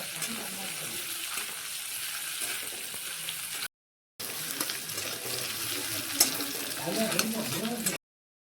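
Sliced onions fry in oil in a pan, a continuous close sizzling hiss with light stirring clatter, broken by a short cut midway.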